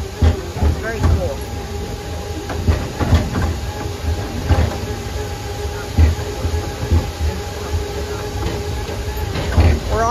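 A Coca-Cola sightseer tram in Wildwood Crest rumbles along with steady rolling clatter and periodic clicks, a voice talking over the ride.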